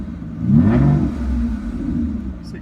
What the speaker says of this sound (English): So you can see that it revs smooth